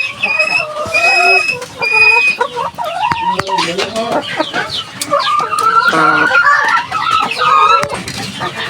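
Laying hens on a small backyard egg farm in Bangladesh cluck loudly and close by, with overlapping cackles, rising calls and short squawks crowding one another without pause; a rooster-like crow rises near the middle.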